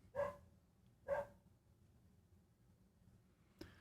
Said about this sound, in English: We'll let that dog bark. It's not mine.